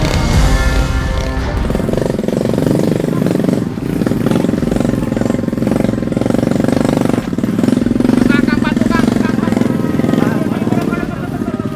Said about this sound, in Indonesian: membuat ban depan motor yang kami tumpangi beberapa kali terangkat naik karena